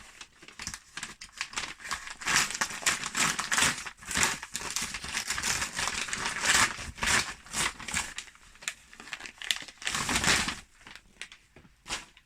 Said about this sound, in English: So again, cue lots of rustling.